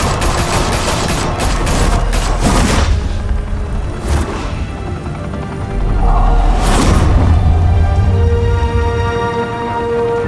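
Dense gunfire in Batman: The Telltale Series, rapid continuous bursts with heavy booming blasts and explosions, loud and sustained throughout.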